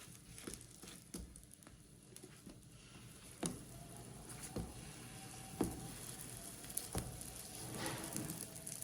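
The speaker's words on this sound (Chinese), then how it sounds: "然后盖住盖子烙2分钟，烙2分钟之后，我们给它翻个面。" A leftover rice pancake fries in oil in a covered electric griddle pan, giving a steady close sizzle and patter with occasional sharper pops and crackles throughout, no talking.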